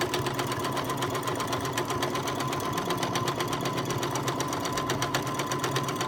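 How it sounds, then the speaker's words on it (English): A sewing machine hums in a fast, even, continuous stitching rhythm as a quilt is stitched along a mini meander template, loud and close throughout with no pauses. "So I'm going to just stitch right along"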